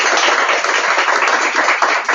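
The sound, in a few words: audience applause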